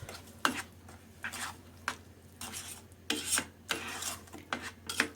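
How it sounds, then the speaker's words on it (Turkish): Beans cooking in a pot are stirred continuously, giving irregular scraping, rasping strokes of a spoon against the pot, close and fairly quiet, with no talking. "Fasulyemiz suyunu çekene kadar, koyulaşana kadar devamlı karıştırarak pişiriyoruz."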